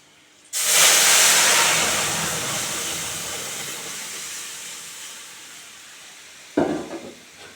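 Lentils hit a hot tempering of oil, green chillies and spices in a pan with a sudden loud hiss that slowly fades over several seconds, followed by a second, shorter sizzle burst near the end.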